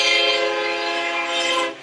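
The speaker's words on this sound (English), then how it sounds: "There's a train going by." A passing train sounds its horn in a long, steady, loud blast with a rich stack of tones, close by, fading slightly at the end, with no talk over it.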